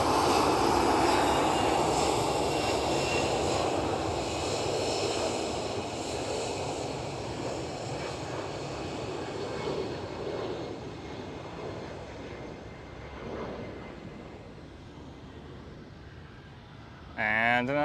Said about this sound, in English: And another KLM 737.